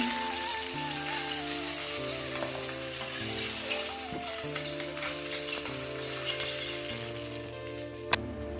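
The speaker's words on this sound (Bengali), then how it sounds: "দেখুন আমার ইলিশ মাথাটা খুব সুন্দরভাবে ভাজা হয়ে গেছে।" Hilsa fish head frying in hot oil, a steady sizzle that carries on throughout, with a faint tonal hum underneath and one sharp tap near the end.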